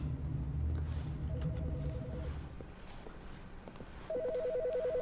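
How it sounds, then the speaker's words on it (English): Telephone ringing in the video game The Stanley Parable, two short electronic ring bursts separated by a pause over a low ambient hum, moderately clear and not loud. "Here, phone ring."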